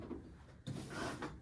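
A drawer slides open with a wooden rumble and clatter of contents while someone searches through it for a pair of pliers, one short close burst after a quieter start.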